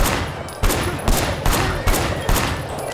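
Bursts of gunfire in the video game Sleeping Dogs: loud, close volleys of shots landing about every half second in a steady rhythm over a dense rumbling background, with no talk.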